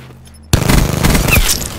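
Gunfire in the shooter Call of Duty Black Ops 4, erupting suddenly after a quiet moment into a dense loud rattle of rapid shots lasting over a second.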